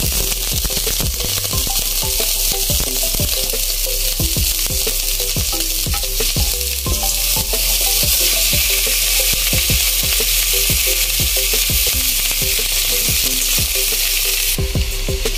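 Boiled beef shank sautéing in a pan for Filipino kare kare, a steady loud sizzle broken by repeated scraping stirs and clinks of a utensil, with no talking.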